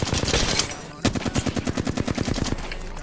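Gunfire in a first-person shooter video game played with keyboard and mouse, a loud burst of shots followed by a rapid automatic rattle of evenly spaced rounds, close and dominant.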